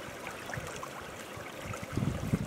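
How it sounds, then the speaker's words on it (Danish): Fast-flowing water in a restored trout stream gives a steady, close rushing and gurgling, with a few louder splashes near the end and no voices. "Hernede der får vi fart på vandet, som sagt, og det tager materialerne med."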